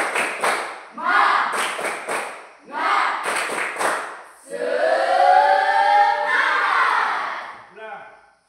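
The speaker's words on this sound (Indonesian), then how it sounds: "Tepuk semangat." Group of children performing a rhythmic spirit clap in a classroom, bursts of clapping in patterned beats mixed with shouted chanting, ending in a long sustained group cheer.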